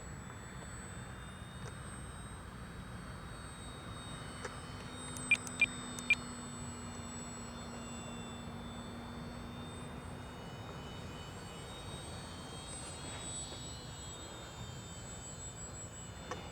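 An FMS Ranger 1220mm V2 RC airplane flies at a distance, its electric motor a steady faint drone throughout, with a few brief beeps from the transmitter timer partway through.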